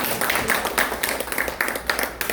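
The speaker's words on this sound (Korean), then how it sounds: "다시 한번 큰 박수 부탁드리겠습니다" Audience applause following a short lecture at a Korean hangung sports association event, a steady patter of clapping at moderate loudness throughout, with no voices over it.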